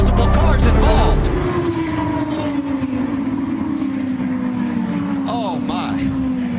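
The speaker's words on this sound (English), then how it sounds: "Rubber contact and a huge crash. Up in turn number 2. Oh, multiple cars involved." Engine roar of IndyCar race cars during a multi-car crash in turn 2, a loud burst at the start giving way to a sustained, falling engine drone with bursts of noise, under excited commentary.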